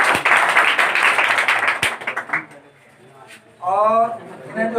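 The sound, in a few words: applause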